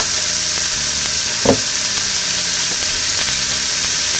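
Pork chop searing in a hot pan, a steady loud sizzle and crackle of fat throughout, with a brief clatter as the chop is turned over partway.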